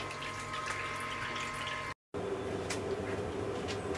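Steady low hum and watery trickle of a pump recirculating wort during a home brew of a NEIPA, faint and continuous with a brief dropout midway.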